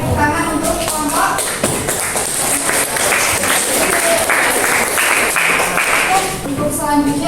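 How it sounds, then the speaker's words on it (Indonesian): Students clap for a group during a mathematics class, a dense round of applause from the room with a teacher's voice and some shuffling mixed in. "tepuk tangan untuk kelompok"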